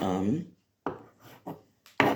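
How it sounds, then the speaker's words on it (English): Knife chopping ingredients for a meatloaf: a few short scraping, woody cuts spaced apart, preceded by a brief voice. "I think I'm done chopping"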